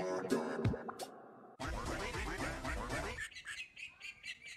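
Ducks quack in a short, nearby burst of squawks and honks, layered over rustling and splashing, with no talk.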